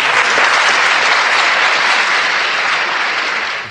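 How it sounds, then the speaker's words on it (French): Sustained, loud applause from a lecture audience, a dense steady clatter of many hands that holds for several seconds before easing slightly at the end, with no voices over it. "cette constatation applaudie comme vous l'entendez"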